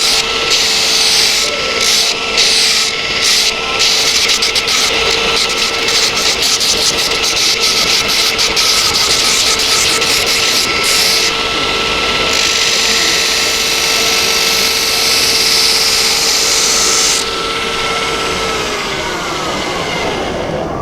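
A surface grinder grinds a steel knife blade tang to a taper, a loud continuous grinding whine with a steady motor hum and passes that change texture, running alone without speech.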